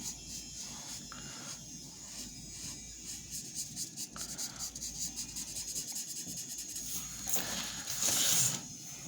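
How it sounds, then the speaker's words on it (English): A gouge carving lines into a printmaking block, giving steady close scraping and rubbing strokes with a slightly louder burst near the end, no talking. "just using the gouge, I can definitely cut in there"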